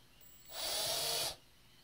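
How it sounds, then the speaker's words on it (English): A heavy electric drill bores into a wooden painting frame in one short, steady whirring burst of under a second, close and alone. "this is a heavy drill that I just give little light pumps."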